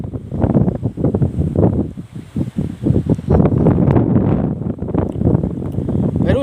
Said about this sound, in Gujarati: પવનની જરૂર નથી, પણ સાથે સાથે આવ્યો છે